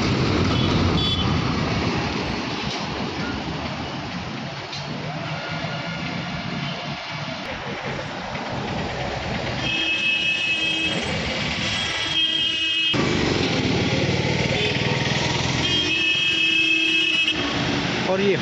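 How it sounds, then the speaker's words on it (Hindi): Heavy South Indian trucks roll past on a road in a steady engine rumble and tire roar, with traffic noise throughout and someone talking over it. "और ये जो है साउथ के ट्रक्स हैं, जो ये है द साउथ इंडिया ट्रक्स।"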